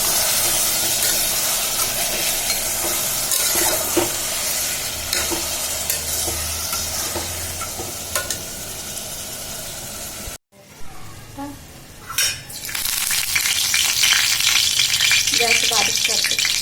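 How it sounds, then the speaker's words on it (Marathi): Mutton sautéing over high heat in a pan for a Konkani-style thali, a loud steady sizzle with scraping stirs, a brief drop in sound, then sizzling resumes; a voice speaks faintly at times. "मटण परतताना गॅस मोठाच ठेवायचा"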